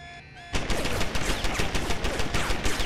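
An automated turret in Deus Ex: Human Revolution opens fire inside a warehouse, a loud, fast stream of evenly spaced machine-gun shots that starts abruptly and keeps hammering without pause.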